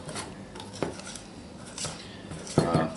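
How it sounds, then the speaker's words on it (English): Whisk folding milk into cornmeal pancake batter in a bowl, a few scattered scraping and clinking strokes against the bowl with quiet gaps between them, close and moderately soft. "then we're going to get our whisk. We're going to fold that milk in there"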